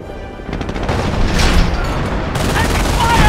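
Rapid bursts of gunfire and booming explosions from the World War II strategy game Company of Heroes, loud and dense, with in-game voice callouts mixed in.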